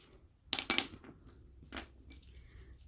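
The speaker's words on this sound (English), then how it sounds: "if you hear that little noise, that's the paper stretching." Craft paper is stretched and torn by hand at a workbench in two quick crackling bursts close to the mic, followed by a softer rustle and a brief scrape in an otherwise quiet room.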